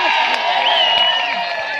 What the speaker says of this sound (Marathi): प्रेक्षकांचा उदंडाचा टाळ्यांचा कडकडाट